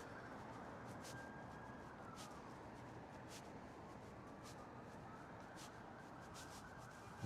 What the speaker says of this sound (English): There's another siren coming this way.